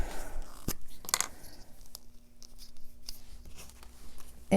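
Scissors cut paper pieces for a shabby patchwork mini journal, a few close snips and crisp paper rustles separated by quiet pauses, with no talking.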